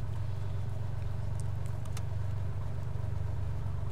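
Cessna 182T piston engine idling just under 1,000 RPM in the FSX flight simulator, a steady low rumbling drone that holds close and even throughout, with a few faint clicks over it.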